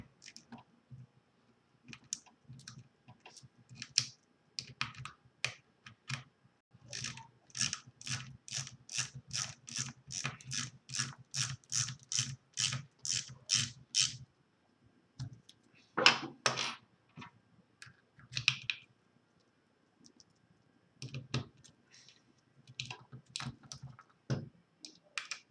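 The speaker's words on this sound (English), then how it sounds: "And then tighten it down with your socket wrench." A socket wrench tightening the motor assembly of a Boston 18 pencil sharpener, with a long run of rapid, close ratchet clicks in bursts and brief pauses between turns, no talk.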